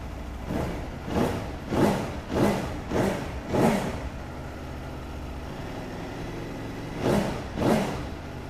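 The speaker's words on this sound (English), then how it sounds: "let's fire this one up and have a listen" An Aprilia Tuono V4 1100 Factory motorcycle engine idles and is revved in a series of short blips, then settles and revs twice more, loud and close.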